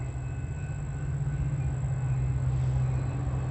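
A BNSF commuter train arriving at Downers Grove station gives a steady, loud low rumble with a faint high whine above it, holding even throughout.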